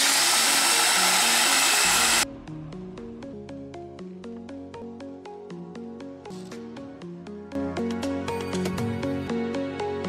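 A home appliance grinds organic peanuts into peanut butter with a steady motor hum and a rhythmic churning, after a brief burst of louder noise at the start.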